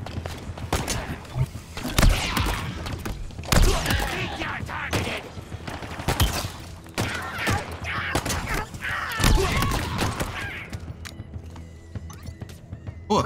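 Assault rifle gunfire in the Halo Infinite campaign rattles off in repeated bursts and single shots amid combat effects, loud and close, with a voice talking at times.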